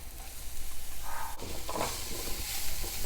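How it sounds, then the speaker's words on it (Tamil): Grated carrot and onion are sautéed in a pan for puffed rice upma, giving a soft, steady sizzle with a brief scrape of stirring partway through, fairly quiet and with no voices. "கேரட்டும் கொஞ்சம் நல்லா வதக்கிடலாம்."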